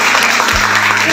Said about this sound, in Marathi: एकदा सगळ्यांनी मनापासून टाळ्या वाजवा